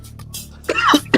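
One short cough in a recording being played back, a couple of sharp bursts over faint background hum.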